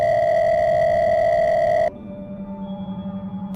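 A phone rings from inside a pocket: a steady electronic tone sounds loud and close for about two seconds, then cuts off abruptly, leaving a low, faint hum.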